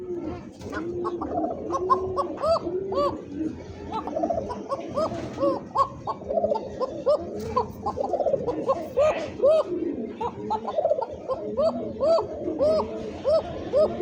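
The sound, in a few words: pigeons cooing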